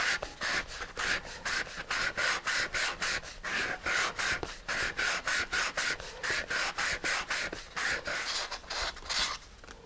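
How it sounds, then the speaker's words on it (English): Sandpaper works the edge of a glued model rocket transition part in quick, even back-and-forth strokes, giving a rhythmic rasping close up that runs steadily with no voices. "I can sand the edge of there, and I can sand around there, and that will make it a little bit looser."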